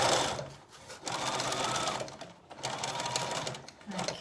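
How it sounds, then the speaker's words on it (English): A sewing machine stitches stretched elastic onto a summer skirt waistband, a steady close motor whir in long runs with brief pauses, and a voice talks faintly underneath. "Stretch your elastic and stitch on."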